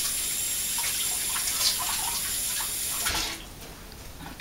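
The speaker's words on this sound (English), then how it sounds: "let me just wash my hands real quick" Running tap water splashes steadily over hands at a sink in a home kitchen, a close hissing wash that fades out near the end.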